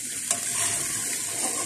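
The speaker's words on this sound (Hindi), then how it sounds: "हमेशा साइड से चमचा ही ऐसे चलाना ताकि बोटी ना टूट जाए" A spoon stirring chicken korma in a pot, giving a brief scrape and soft sizzling, bubbling cooking noise, close and fairly loud, with no voices.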